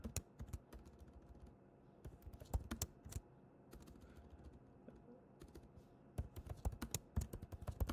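Quiet typing on a computer keyboard, irregular bursts of soft clicking keystrokes with short pauses between, fairly close and without talk.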